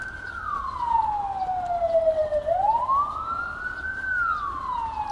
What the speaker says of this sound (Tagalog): May sunog ba? Ambulansya lang ito.